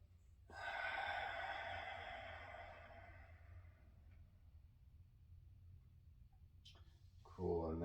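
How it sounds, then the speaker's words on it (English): One long, slow exhale during a hip and sacral mobility exercise, a soft airy breath that gradually fades, followed by a brief sniff and the start of a voice at the end. "Deep breath out."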